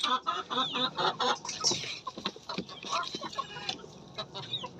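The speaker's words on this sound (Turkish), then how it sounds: "Bu tavuğumuz." A hen clucks and squawks in a coop in short, busy bursts, close by, with a bit of background noise around the calls.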